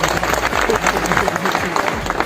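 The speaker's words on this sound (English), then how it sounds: "Congratulations and huge round of applause." An audience applauds selected candidates at a motivational event, with dense, steady clapping from a crowd filling the whole short stretch at a loud, even level.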